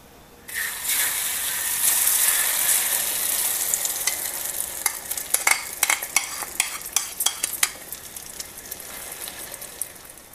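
Egg omelette batter hits a hot pan and sizzles steadily, a bright continuous frying hiss joined by a run of crisp crackling pops midway, with no voices.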